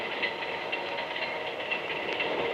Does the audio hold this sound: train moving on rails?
yes